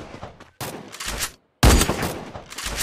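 Bursts of gunfire in a shooting video game round, with three clusters of rapid, loud shots separated by brief silences.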